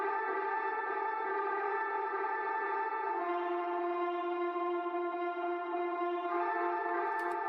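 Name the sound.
ambience rack atmosphere without volume shaper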